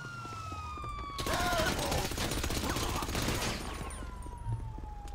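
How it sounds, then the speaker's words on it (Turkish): Police car sirens wail in Grand Theft Auto V while a burst of rapid gunfire crackles loudly through the middle, the siren tones sweeping before and after the shooting. "Polis geliyor."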